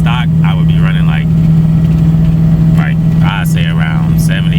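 A truck engine pulls a trailer up a decent-sized hill, its steady drone running loud throughout beneath someone talking.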